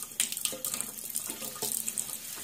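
Small leftover bits of homemade blueberry bath bomb with coconut oil fizzing in a bowl of water, a steady close hiss of bubbling and trickling water with faint clicks, no speech.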